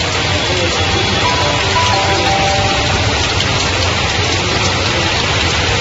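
Heavy rain pours steadily in Mayiladuthurai, a loud, dense, continuous hiss of rainfall with no pauses, alone and without voices.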